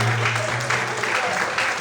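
A church congregation applauds in a short, steady burst of clapping, moderately loud with a low hum underneath.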